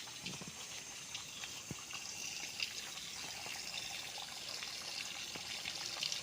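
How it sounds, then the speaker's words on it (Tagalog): River water rushes and gurgles continuously, a steady broad hiss of flowing water with small splashes, moderately faint and without voices. "Yan na po ang ilog mismo katabi ng property."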